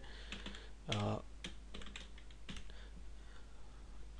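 Someone types a script on a computer keyboard, with quiet, close, irregular clicks in short bursts and one louder clatter early on. A faint steady hum runs underneath and no one speaks.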